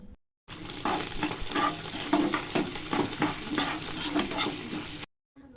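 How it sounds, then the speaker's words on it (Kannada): Peanuts fry in a spiced masala with curry and coriander leaves in a pan, giving a steady close sizzle with repeated scraping stir strokes that run for about five seconds between brief silences. "ಇವಾಗ ಕಡಲೆ ಬೀಜ ಹಾಕೊಂಡು ಚೆನ್ನಾಗಿ ಫ್ರೈ ಮಾಡಿದ್ರೆ ರೆಡಿ ಆಯಿತು"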